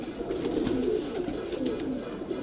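Kalpare high-flyer pigeons in a loft coo in soft, repeated low throaty calls, several birds overlapping close by with faint rustling and no speech.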